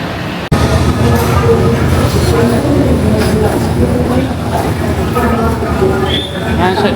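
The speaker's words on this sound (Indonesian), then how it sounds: "Nah ini kereta api Jayabaya" The Jayabaya passenger train rolls into a platform on track 5 with a loud, continuous rumble and rattle of wheels, muffled voices mixed in.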